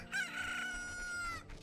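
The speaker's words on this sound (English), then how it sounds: "I keep hearing that goddamn chicken." A loud, close chicken call from the video game The Legend of Zelda: Ocarina of Time rises into one sustained, rooster-like crowing note of about a second before it fades.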